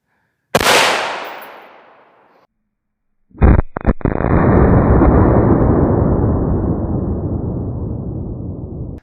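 A firearm lubricated with gasoline fires outdoors: a sharp, loud report at the start that rings out and fades over about two seconds, then after a brief silence a second burst of sharp cracks followed by a long, loud, sustained roaring rumble.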